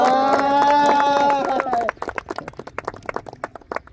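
Football players at a training session clap together, a burst of quick, uneven handclaps following a voice, fairly close and loud outdoors.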